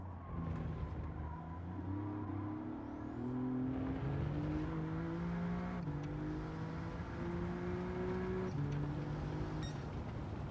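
Race car engine in Gran Turismo 7 climbing through the gears, each whining pitch sweep rising then dropping at a shift, a steady, moderately loud in-game drone with no talking.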